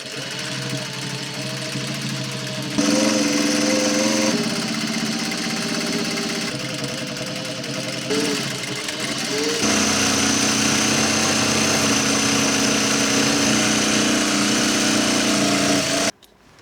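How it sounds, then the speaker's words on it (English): A sewing machine runs steadily and continuously, stitching belt loops for dungarees, its motor whirring and needle chattering at a fast even pace, with a brief change in pitch partway through. "we're going to sew another line down the other side with the exact same sort of side of the sewing machine foot width"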